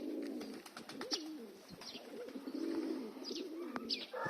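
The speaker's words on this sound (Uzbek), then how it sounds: "Kaptar ko'payib ketdi. Ikkita kaptar bo'lib ketdi." Pigeons coo repeatedly at close range, soft throaty calls rising and falling over several seconds, with a few sharper chirps from other birds in the background and no one speaking.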